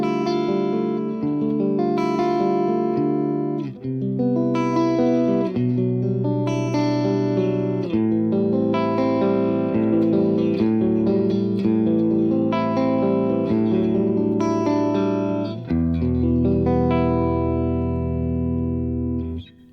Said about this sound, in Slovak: ako znie gitara pri hre plastovým